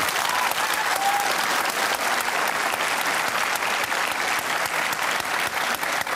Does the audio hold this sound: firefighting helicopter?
no